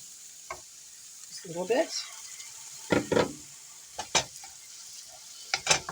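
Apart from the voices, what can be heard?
stirring and mixing cake ingredients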